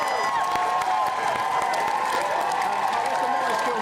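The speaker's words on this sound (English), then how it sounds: "That deserves a round of applause." A crowd at a live crafting television broadcast applauds and cheers continuously, a dense steady roar of clapping with some whoops and voices mixed in.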